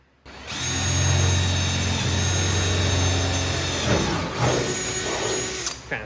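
A power drill bores holes for new brakes on an OBS Chevy truck, whining loud and steady for about four seconds before the pitch drops and it trails into short, uneven bursts.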